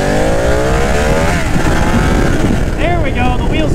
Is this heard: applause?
no